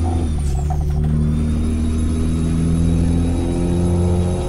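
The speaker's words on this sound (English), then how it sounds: "Love the turbo sound as well." Peterbilt 379 American truck engine in Euro Truck Simulator 2 accelerating with a steady low roar, a whining gearbox and turbo tones rising, close and continuous without pauses, a short hiss near the start.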